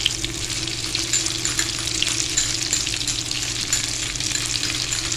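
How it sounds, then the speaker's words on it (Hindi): Chana dal kebab patties, coated in egg, sizzle steadily in hot oil in a pan, a dense continuous crackle that holds at an even, close level throughout with no voices. "टिक्कियाँ हमारी फ्राई हो चुकी हैं दोनों साइडों से"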